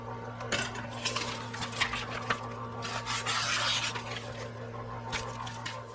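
A kitchen knife is drawn through a pull-through knife sharpener, producing close, gritty rasping strokes in quick succession with sharp scraping clicks over a steady background hum.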